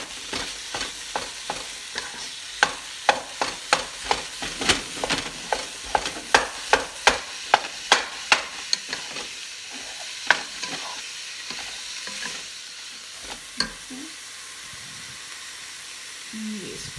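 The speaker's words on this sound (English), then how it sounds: "Meat is cooking. I don't think you can see it, but it is cooking." Ground meat for a spaghetti meat sauce sizzles in a pan while a utensil knocks and scrapes in a quick rhythmic run of strokes, then the stirring stops and a steady hiss of frying carries on with faint voices near the end.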